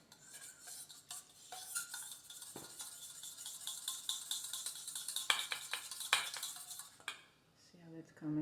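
A utensil stirs a mayonnaise mixture in a bowl for a low-carb dish, giving steady scraping and clinking against the bowl, close and fairly quiet, with a brief spoken remark near the end.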